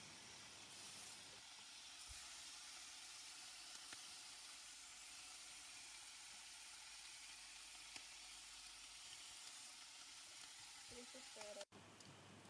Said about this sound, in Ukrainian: Тож обсмажую бекон з двох сторін.